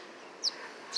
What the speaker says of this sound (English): You went and got all these other birds.